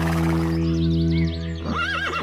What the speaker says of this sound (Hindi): परंतु कुछ भी हो, है तो ये घोड़ा ही ना।